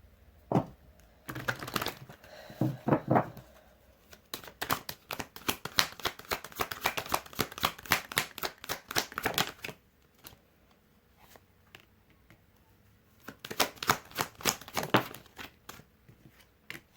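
Tarot cards being shuffled in rapid riffling bursts, loud and close, with a brief pause partway through before the shuffling resumes.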